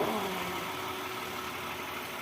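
A motorcycle engine idles steadily at a low, even rumble, a continuous mid-pitched drone with faint vibration and no voices over it.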